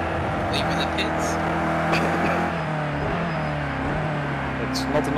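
A race car pulls out of the pits in a racing video game, its engine droning steadily at an even level while a voice speaks over it.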